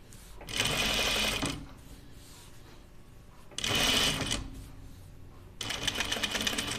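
A sewing machine stitches across the top of a dress in three bursts, each running steadily for about a second, the last trailing off at the end, close and fairly loud with quiet gaps between.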